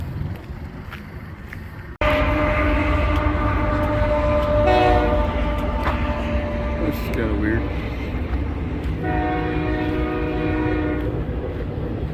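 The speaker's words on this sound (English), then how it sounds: "I've ever gone through a tunnel underneath the railroad tracks when a train is going on before" A train rolls overhead on railroad tracks above a trail tunnel on the Pacific Crest Trail, loud and close, with a constant heavy rumble, clattering wheels and horn-like tones that swell and fade. It continues for the whole stretch.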